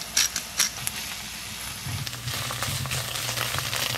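Soft sizzling and crackling as poke greens fry in a pan, cooking off water, with a few brief clattering bursts early on and a steady low hum underneath.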